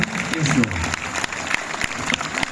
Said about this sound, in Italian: Continuate con l'applauso